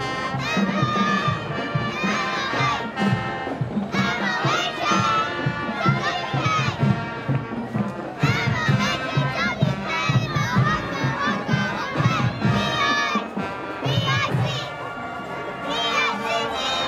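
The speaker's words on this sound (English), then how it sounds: "Maybe we can get a cheer out of them if we're lucky." Young Mohawk Pee Wee cheerleaders shouting a chanted cheer at an outdoor Christmas parade in Wampum, loud rhythmic group yelling in bursts with crowd noise between phrases.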